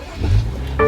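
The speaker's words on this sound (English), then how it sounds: "Car started" A BMW car engine starts after the start button is pressed: a low, steady rumble swells, then a brief rise at the very end as it catches. The sound is close and short, with no talk over it.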